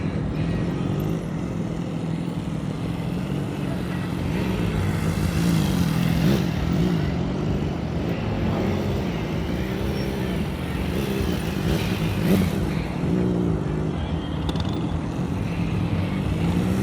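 A motorcycle rolls at slow speed during a riding-skills practice session in Florida, its engine giving a steady low rumble that swells slightly now and then across the whole stretch, with no talking.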